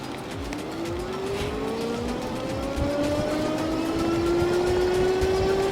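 The hub motor of an Aventon Sinch folding electric bike whines steadily higher as it accelerates on throttle alone, its rising tone carried over constant wind and road rush.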